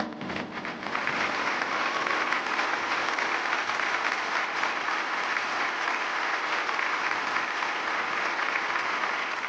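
Sustained audience applause fills the studio at a Telugu television family game show, steady and dense for nearly ten seconds after a brief quieter start, with no voices over it.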